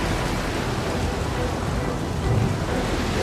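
Sea storm with steady heavy rain and a low rumble of thunder, a dense continuous roar filling the scene with a slight swell near the end.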